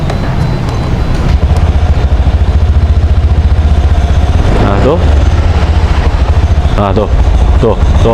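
A Honda Scoopy scooter engine runs with a steady, rough mid-pitched idle and then sputters as the throttle opens and the engine falters toward a stall, heard close up with a brief spoken word over it.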